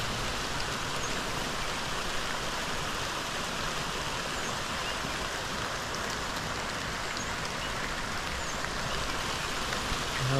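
Rain falls steadily on a flooded backyard on a hill in Wittenville, Kentucky, an even, hissing patter with faint drips and no talk throughout.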